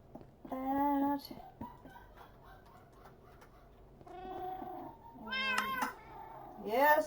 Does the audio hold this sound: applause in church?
no